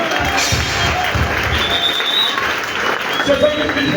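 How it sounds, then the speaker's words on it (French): A church congregation breaks into loud, sustained applause, a dense close wash of clapping that runs throughout without letup, with voices mixed into the crowd noise. "Acclamons très fort le Seigneur."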